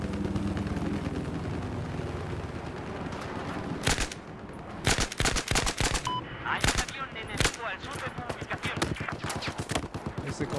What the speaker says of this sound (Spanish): Estoy sintiendo todos, cada uno de los disparos.